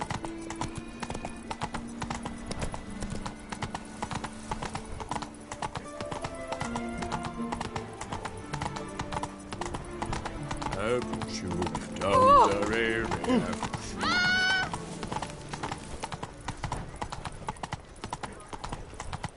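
A horse in a video game trots along with steady, rhythmic hoof clip-clops and a brief whinny under game sounds and a voice talking.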